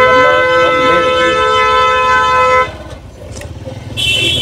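Busy town traffic in Abbottabad, Pakistan, with car horns holding long steady tones for several seconds, then a quieter gap and a burst of road noise, all close and loud.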